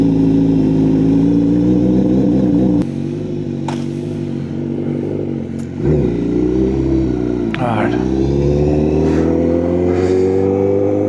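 A Honda CBR 1000 RR-R SP superbike revs hard on a dyno during tuning. The loud, sustained engine roar climbs and dips with several throttle blips and brief drops between pulls.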